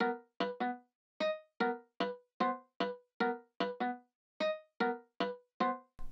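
Dry, layered acoustic guitar harmonics preset in Logic playing a rhythmic pattern of short bell-like plucked notes, about sixteen crisp hits with silent gaps between, clean and close.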